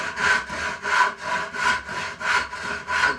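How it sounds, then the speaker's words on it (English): A hand saw cuts through pallet wood in steady back-and-forth strokes, about two per second, close and rasping. "I'm just pushing the blade backwards and forwards"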